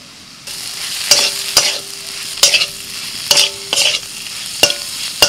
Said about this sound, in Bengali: এবার ভাজা ঢেঁড়সগুলো দিয়ে দিচ্ছি।